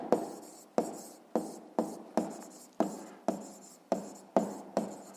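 Chalk or marker strokes on a board during a physics lesson, about ten sharp scratchy strokes in a steady rhythm, close and clear with no talking.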